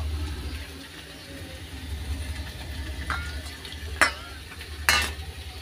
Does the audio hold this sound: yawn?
no